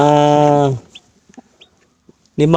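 A broody hen sitting on eggs with one newly hatched chick: loud, close clucking at the start and again at the end, with faint, thin chick peeps and small rustles in the quiet stretch between.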